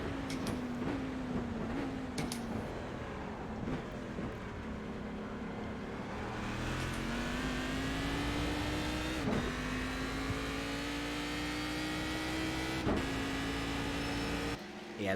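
Cadillac CTS-V race car engine lapping Pocono in a racing simulator, a steady sustained drone that slowly climbs in pitch with brief gear-shift dips, continuous and fairly close throughout.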